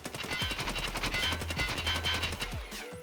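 Sustained automatic fire from an AKS-74U in the video game Escape From Tarkov: a rapid, evenly spaced string of loud shots rolling through about three seconds, a couple of separate bursts, no talk.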